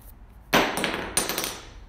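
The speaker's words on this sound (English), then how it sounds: "Prepare yourself, for I will drop the hammer." A hammer dropped onto a garage floor lands with a sharp metallic clank, then bounces once with a second, slightly weaker clank, each followed by a brief ringing decay.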